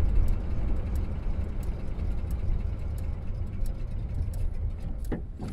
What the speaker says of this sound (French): Le V8 on entend surtout là parce qu'il y a le petit joint de correcteur d'échappement changé.